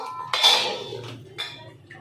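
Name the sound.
putting a lid on the cooking pot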